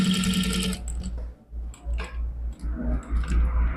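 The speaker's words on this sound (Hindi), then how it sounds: "यहाँ पे बिल्कुल एहतियात के साथ थोड़ा थोड़ा आपने मशीन को रन करना है" A sewing machine runs in short, careful bursts while stitching the front placket of a men's kameez, its motor whirring up and easing off several times at close range with no talk.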